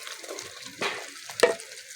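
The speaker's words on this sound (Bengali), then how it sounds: "মশলাটা ভালো করে ভেজে নিয়েছি, তেল ছেড়ে এসছে। ভেজে রাখা আলুটা দিয়ে দিচ্ছি" Fried potatoes drop into spices frying in hot oil, giving a soft steady sizzle with two brief louder splashes of stirring, close-up and quiet, with no talking.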